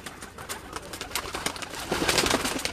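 Pigeons coo softly and repeatedly close by, their low rolling calls overlapping in a continuous murmur.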